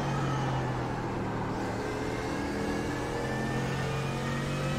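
A Porsche race car at the Nurburgring in iRacing, IMSA series, heard as a loud, steady engine drone with a constant low tone throughout, no pauses.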